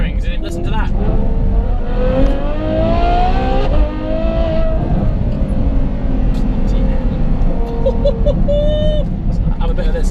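A Ferrari F12 tuned as a Novitec N Largo revs hard, its engine note climbing and falling in loud, close sweeps, with a deep rumble underneath and a final short blip near the end.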